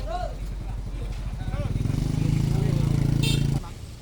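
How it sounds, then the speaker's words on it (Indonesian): A motorcycle passes close by outside a factory gate, its engine note building and droning for a few seconds before cutting away, mixed with background chatter and street noise. "Motor, itu motor."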